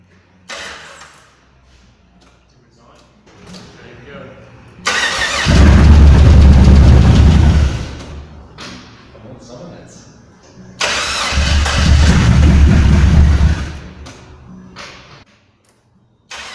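An LS1 V8 swapped into an old Sprinter ambulance cranks and roars to life twice, each start settling into a loud, rumbling idle for a few seconds before cutting off, with quiet clicks and pauses between.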